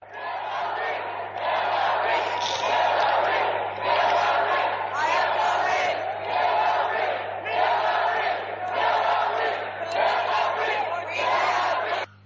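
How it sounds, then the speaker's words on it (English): A large crowd chants Hillary's name over and over in a steady, rhythmic cheer, loud and continuous, with bursts of many voices rising and falling in regular pulses. "here's the crowd that's chanting for Hillary"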